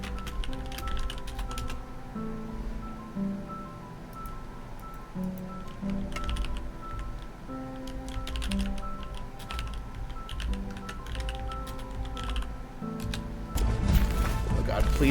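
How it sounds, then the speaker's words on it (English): Steady computer keyboard typing clatters throughout, with rapid irregular key clicks and occasional heavier taps over a low background hum, growing louder near the end. "I'm sorry that I have to subject you to my typing while I do this"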